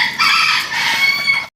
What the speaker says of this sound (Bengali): এই যে একটা সিঙ্গেল মোরগ